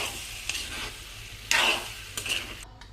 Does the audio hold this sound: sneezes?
no